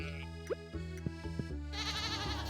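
Sheep in Stardew Valley give a short series of bleats, several quick cries in close succession over a steady game music background.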